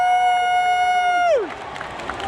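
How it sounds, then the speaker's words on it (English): A single loud sustained cheering tone from a fan at a K-pop concert in Tokyo, holding steady before sliding down and cutting off, leaving a faint murmuring crowd behind. "I want you to listen to our cheering."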